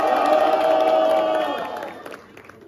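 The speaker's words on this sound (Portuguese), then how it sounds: "Muito barulho pro trio da Minacá." Crowd at a Brazilian rap battle cheering and whooping loudly for a competing trio, a dense sustained roar that fades out over the final second.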